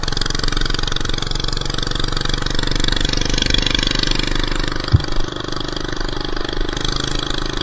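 A small minibike engine, its clutch previously slipping, idles steadily outdoors with a continuous close, buzzing putter and one brief louder blip partway through.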